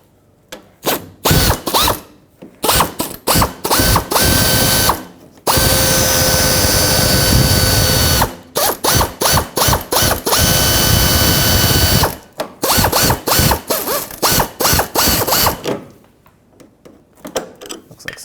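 A ratchet on an 8mm fastener holding a Ford Ranger's front fender liner clicks in rapid bursts, close and loud, alternating with steady whirring runs of a power driver and short pauses between.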